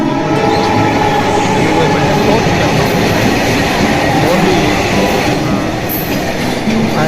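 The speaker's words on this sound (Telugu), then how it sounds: "రాపూర్ ఈ ట్రైను ఇప్పుడు నెల్లూరు నుంచి ఇటు కడపకి వెళ్తూ ఉంది" A train on the Rapur–Obulapuram line, heading from Nellore toward Kadapa, rolling past loudly and close with a continuous heavy rumble and rhythmic wheel clatter, while a voice speaks briefly over it.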